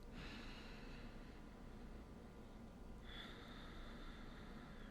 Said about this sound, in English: focusing on the sound of your breath through your nose